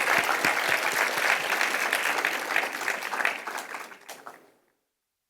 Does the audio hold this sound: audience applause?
yes